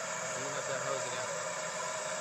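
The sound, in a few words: blowtorch flame burning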